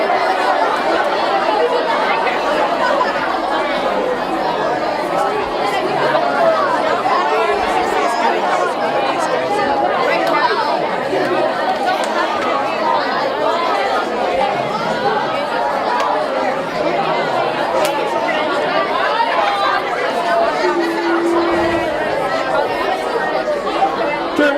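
A large audience chatting with their neighbours at a talk on aloha values, a dense, steady murmur of many overlapping voices with occasional laughter, continuous throughout.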